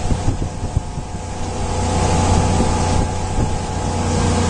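A 1999 Sea Ray 270 Sundancer motorboat cruising at about 3,600 RPM, its engine a steady, loud, close drone layered with wind and water rush that swells slightly partway through.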